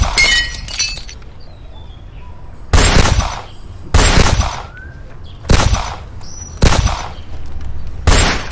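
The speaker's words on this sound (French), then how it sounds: "Ça tire, bon sang!" Gunfire, a series of sharp, loud cracks spaced about a second apart, each one bursting out over quiet between the shots.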